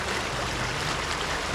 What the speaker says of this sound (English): look at this water just gushing here